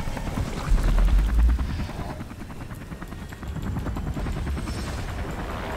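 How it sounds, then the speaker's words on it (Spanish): A helicopter in the video game Beyond Two Souls thumps with steady rapid rotor chop and a low engine roar, loud and continuous, with a few heavier booms early on. "¡Derriba el helicóptero!"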